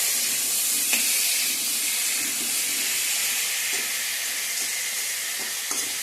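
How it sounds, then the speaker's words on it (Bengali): Water added to spices frying with salt and turmeric in a pan gives a steady, loud hiss and sizzle throughout, with a few faint clicks of stirring and no talk. "মশলার সঙ্গে ভালো করে ভেজে নিয়ে জল দিয়ে দেব।"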